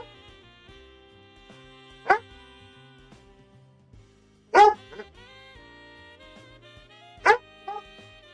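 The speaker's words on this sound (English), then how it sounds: "He's barking and looking at something." A dog gives three sharp, separate barks spaced a couple of seconds apart, close and loud, with a faint yip after the last one and quiet music running underneath.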